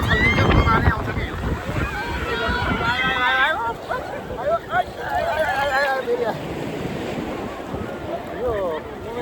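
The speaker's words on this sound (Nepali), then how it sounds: "यो चाहिँ हेउन्डेको समुद्र तट हेउन्डे बिच हुन्छ। यहाँ चाहिँ मानिस पनि धेरै छन् है। पानी पनि यस्तो छल्किन्छ पानी आउँछ" Ocean waves splash and wash ashore at Haeundae Beach in Busan, a crowded seaside setting, with rushing surf and wind noise under excited speech throughout.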